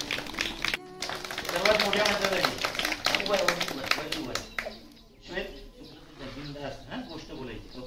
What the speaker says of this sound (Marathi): टाळ्या एकदा जोरदार।